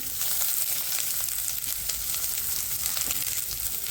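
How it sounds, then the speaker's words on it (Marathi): Onions frying in oil in a pan, cooking toward golden brown: a steady, close sizzle with crackling spits throughout, no voices. "कांदे छान आपण भाजून घ्यायचे. गोल्डन कलर येतोपर्यंत आपण भाजून घेणार आहे चांगला."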